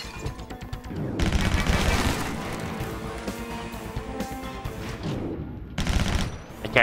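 Bursts of rapid gunfire in the John Woo Stranglehold video game, loud dense volleys that start abruptly, run for a few seconds, pause and erupt again.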